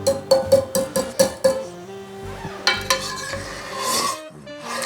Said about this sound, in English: So stirring constantly, but keeping it on a low heat.